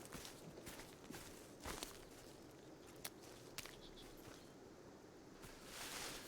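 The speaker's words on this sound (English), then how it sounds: "hearing his footsteps always freaks me out" Footsteps in the video game Sons of the Forest, a steady run of soft, muffled steps on forest ground with occasional rustles, fairly quiet and without speech.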